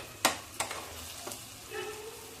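Garlic chutney and curry leaves hit hot oil for dal fry, giving a few sharp spattering bursts followed by a softer crackle, faint and close with no voices.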